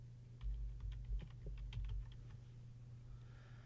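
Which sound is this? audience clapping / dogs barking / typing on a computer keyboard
typing on a computer keyboard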